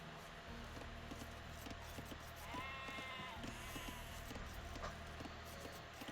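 Sheep bleat in the Age of Empires game, a couple of quiet wavering bleats in the middle of the clip over soft, steady in-game background sound.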